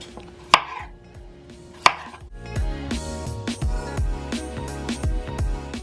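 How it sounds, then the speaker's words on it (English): A knife cuts potatoes on a board for Mexican meatball soup, with two sharp, distinct chops followed by a quieter stretch under steady background music. "we're just going to cut up our potatoes real quick"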